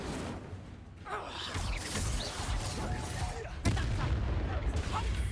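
Incendio fire spell cast during a Hogwarts video game battle, a burst of whooshing, crackling blast noise over a dense, loud game soundtrack with mixed combat effects and voices, a sharp impact near the four-second mark.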